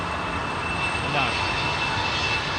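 A Boeing 777-300ER jet, flight TG911, departs Heathrow runway 27R with a steady, broad engine roar that holds at an even, moderately distant level throughout, while people talk quietly nearby.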